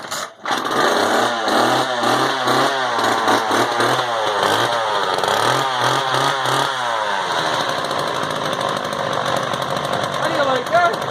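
Neglected Homelite Super 2 chainsaw running with a newly fitted muffler: a loud, close two-stroke engine buzz that revs up and down in uneven surges, rasping and erratic, then settles toward a rougher idle.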